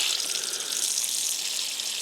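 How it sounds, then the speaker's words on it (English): Water gushing from a tap after a plumbing fix, a steady bright hissing flow that stays even and close for a couple of seconds with nothing else heard. "We're going to turn this water on here."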